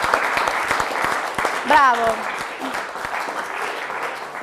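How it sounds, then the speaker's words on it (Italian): Studio audience applause on a TV quiz show, a dense steady patter of clapping that runs the whole time, with a host's voice cutting in briefly over it. "Facciamo un applauso."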